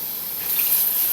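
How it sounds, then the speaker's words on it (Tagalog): Water pours steadily into a cooking pot of paksiw with salmon head and vinegar, a short continuous close splashing rush that grows slightly louder as it flows. "Dagdagan natin ng suka at konting tubig."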